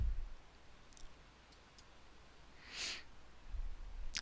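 A handful of faint, sparse computer mouse clicks in a quiet room, isolated sharp ticks with a soft breathy rustle between them and no talking.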